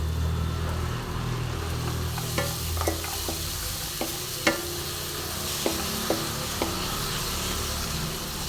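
Cashew nuts frying in a pan for a mango rice dish give a steady close sizzle, broken by a handful of spaced, crisp spatula taps and scrapes.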